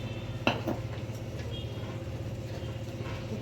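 A spoon stirring flour into khichu in a pot, giving a soft steady scraping with a couple of light clinks against the pot near the start, under a constant low hum.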